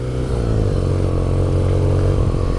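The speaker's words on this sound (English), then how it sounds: "barely out of the parking lot, and I can already tell you this is a really neat motorcycle" A 2018 BMW R nineT Urban GS motorcycle is ridden, its engine a steady low rumble with a slight rise in pitch, heard close and loud under wind with no talking.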